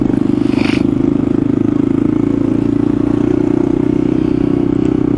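Honda CB300R motorcycle with a diffuser exhaust idling and roaring steadily nearby, a loud continuous low rumble with fast pulsing throughout, no speech.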